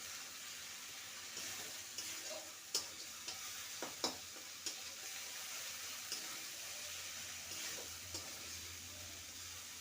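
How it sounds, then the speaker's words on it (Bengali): Poppy seed paste is stirred and sautéed in a pan, a quiet steady sizzle broken by several sharp clinks of a spatula against the pan, with no talking. "ভালো করে কষিয়ে নেব পোস্তটাকে।"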